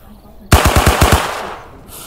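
A loud burst of automatic gunfire in the zombie shooter game Dawn Of Aurora, six rapid shots in quick succession followed by a ringing decay.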